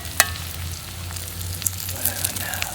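Three eggs frying in a small dugout pan beside a creek, a soft steady sizzle running throughout with a few faint crackles and pops, close and alone without talk.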